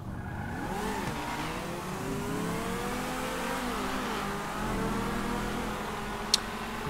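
A car engine in GTA 5 revs and accelerates during a race, its pitch climbing and shifting through gears over several seconds, loud and close with no talk.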